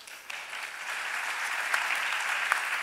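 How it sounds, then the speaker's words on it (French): An audience applauds at a comic stage sketch about a job interview. The clapping runs dense and sustained throughout, with a few sharper individual claps standing out near the end. "Sous vos applaudissements"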